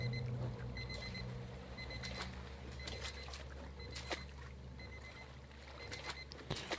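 An alarm clock ringing in the video game The Shattering, a faint, steady ring that repeats throughout, set against a soft ambient bed with occasional light clicks and taps.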